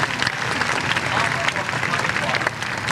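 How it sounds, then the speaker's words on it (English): A crowd at a 1980 Saltwater Circus dolphin show at Kings Island breaks into dense, steady applause that rolls on without a break for the whole stretch. "Some applause, of course."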